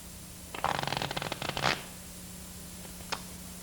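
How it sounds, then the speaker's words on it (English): A deck of playing cards given a false shuffle: a quick riffling flutter of cards lasting about a second, close and fairly quiet, followed by a single soft tap. "Then give the cards a false shuffle."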